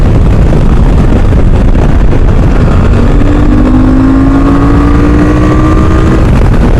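A QJ Motor SRT 800 motorcycle engine revs hard above 6,000 rpm and climbs in pitch, loud and close, with heavy wind buffeting over the roar.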